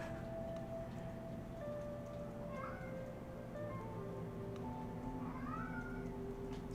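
A pet cat meows several times in a whiny, demanding way, the calls rising and falling over a steady low background hum, fairly faint and indoors.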